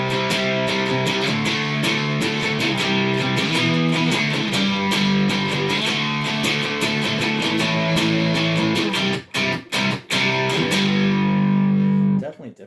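Electric guitar played through a Catalinbread RAH distortion pedal, a soft, saturated tone ringing through a run of picked notes and sustained chords, loud and close, with a few brief cutoffs near the end before a final held chord.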